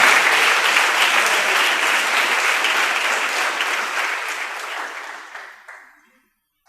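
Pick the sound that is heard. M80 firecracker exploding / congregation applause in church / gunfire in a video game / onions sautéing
congregation applause in church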